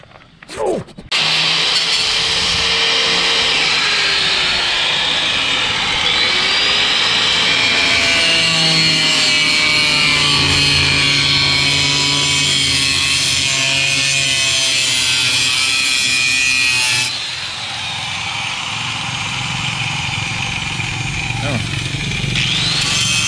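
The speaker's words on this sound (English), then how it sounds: "Alright, I got the grinder ready." A grinder cuts metal for rear frame mounts on a 1961 Pontiac Laurentian, a loud, close, continuous whining grind lasting over twenty seconds, its pitch wavering as the load shifts and dropping slightly near the end.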